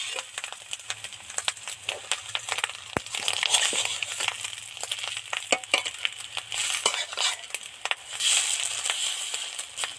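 Katla fish roe deep frying slowly over low heat in a pan, a steady crackling hiss with scattered sharp pops and occasional clinks of a utensil against the pan, close by with no talk.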